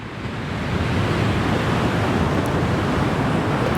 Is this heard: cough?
no